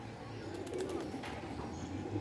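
Soft, low pigeon cooing repeats against a steady background hum, fairly quiet and close, with no talking.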